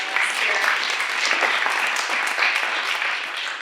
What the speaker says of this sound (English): give a round of applause for everything